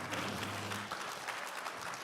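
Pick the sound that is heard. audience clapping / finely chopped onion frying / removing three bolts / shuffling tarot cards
audience clapping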